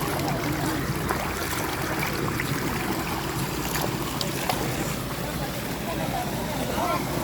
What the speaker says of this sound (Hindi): ये देखिए बागों के अंदर ये जा रहा है पानी।